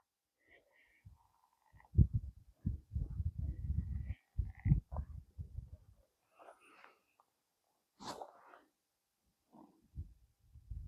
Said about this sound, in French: C'est plein de grenouilles là-dedans.